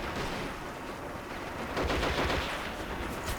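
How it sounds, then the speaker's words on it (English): Sustained gunfire in the multiplayer game Men of War Assault Squad 2, as a mobile machine gun platform shoots on the Crossroads map; dense continuous crackle with a louder burst midway, no speech. "he's got that mobile machine gun platform taking out my guys"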